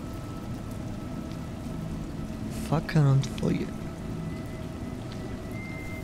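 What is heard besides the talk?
rain in the video game A Juggler's Tale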